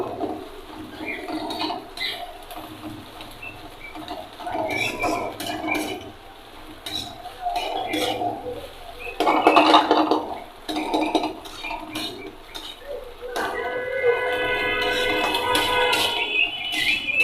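Metal utensil scraping and tapping against a pan in uneven bursts as a fried egg is broken up, with sizzling and clinks in between; a brief louder clatter midway.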